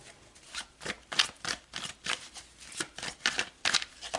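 Tarot cards shuffled by hand in a quick series of crisp, papery riffles, each burst close and distinct in an uneven rhythm, with no talking.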